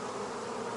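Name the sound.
honey bees buzzing at a hive during honey extraction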